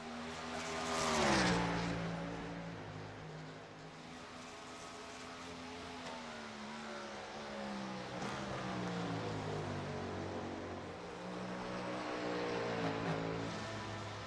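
A Porsche GT3 race car in a racing game at Sebring, its engine droning steadily with rising and falling pitch through gear changes, a louder pass near the start, and continuous revving throughout.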